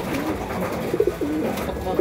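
Pigeons in a loft give soft, repeated throaty coos in short bursts, close by, over a low background murmur.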